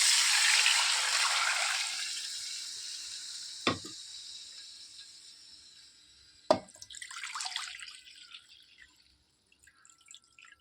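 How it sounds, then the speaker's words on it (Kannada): Water is poured into a pot of rice for ghee rice, a broad rushing pour that fades over several seconds, with a couple of sharp knocks and a brief splashy burst near the end. "ಈಗ ಇದರಲ್ಲಿ 2 ಬೌಲು ನೀರನ್ನು ನಾವು ಇದಕ್ಕೆ ಹಾಕುವ."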